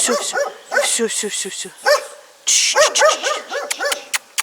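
A dog barks in a series of sharp, close yips and woofs, some rapid and clustered, with brief whimpery notes, out on a foray into an abandoned military base; a person speaks at moments around the barking.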